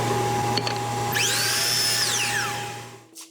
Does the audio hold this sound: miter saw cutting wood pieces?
yes